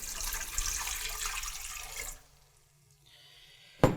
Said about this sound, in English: So we got some water in here.